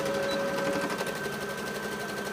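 A sewing machine runs a steady, close, buzzing whir while stitching the seat and crotch seam of a jumpsuit, and no one speaks.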